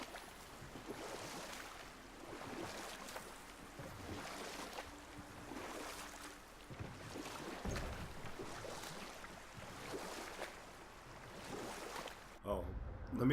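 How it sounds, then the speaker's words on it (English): A huge waterfall in God of War, with Kratos nearby, roars as a steady rushing wash of water throughout, while a person talks over it. "I've never seen a waterfall so big."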